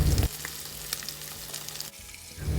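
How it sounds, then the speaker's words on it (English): Pork steak sizzles and fries in garlicky melted butter, a steady crackling hiss with light stirring clatter, loud and close, briefly dipping near the end. "It's good to coat the meat with the aromatic, garlicky, melted butter."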